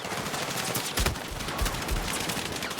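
Shotgun blasts ring out during Battlefield 6 gameplay, a few sharp booming shots over a dense backdrop of gunfire and battle noise.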